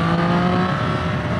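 A Triumph Street Triple RS 765 triple-cylinder engine howls loud and steady on a first ride, holding a continuous rich snarl that shifts pitch slightly partway through.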